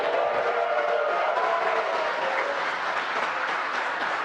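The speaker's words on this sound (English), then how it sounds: "You can hear cheering here at SpaceX headquarters as the employees that have gathered around our Mission Control Center are sharing the same view as you" Employees gathered around Mission Control at SpaceX headquarters cheer and applaud during a Crew Dragon splashdown, a dense, steady roar of crowd noise sustained without pause at a fairly loud level throughout.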